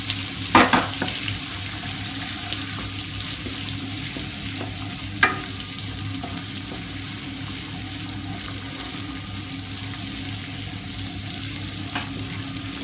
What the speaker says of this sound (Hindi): और इसको भूनेंगे।